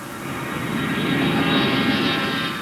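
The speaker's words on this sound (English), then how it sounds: "In peak hours, the CRJs, as they're called, take off and land here every few minutes." Bombardier Canadair regional jet (CRJ) at Cincinnati Airport, a steady broadband engine roar that swells slightly toward the middle and holds throughout, loud and close, with no voices.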